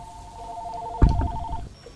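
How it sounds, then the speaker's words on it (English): A telephone rings in a steady pulsing electronic pattern for about a second and a half, cut across midway by a sudden burst of louder noise, likely an exclamation, in a home recording setting. "Sorry about that. Phone call."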